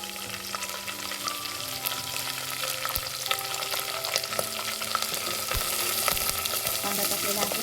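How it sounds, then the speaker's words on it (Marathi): Curry leaves crackle and sizzle in hot oil for a quick spinach khichdi with onion, a steady loud frying hiss with scattered sharp pops and stirring scrapes throughout, no voices. "आता यामध्ये मी कढीपत्ता टाकून घेते."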